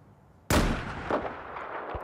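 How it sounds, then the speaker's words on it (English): A large ship explosion in the video game Battlefield 4 on the Hainan Resort map, a sudden loud blast after near silence followed by a long rumbling decay with a couple of secondary thumps. "you're going to hear a explosion, and there you go. It's a pretty big explosion."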